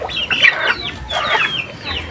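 Native chickens and a rooster cluck nearby while eating scattered feed. The clucks come in two loud, busy bursts with no voices over them.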